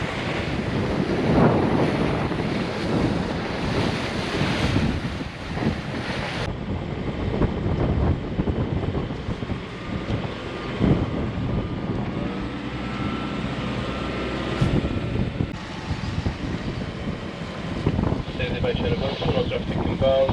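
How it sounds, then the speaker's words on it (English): Near St. Barts in shallower water, waves wash and slosh around a moving boat while wind buffets the microphone in a steady, rough roar, with a voice talking at times underneath. "The wave action is a little different now that we're in shallower water."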